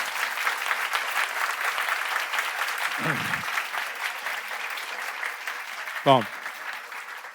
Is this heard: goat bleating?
no